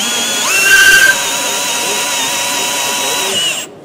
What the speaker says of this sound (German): Ich setze hier den Akkuschrauber an.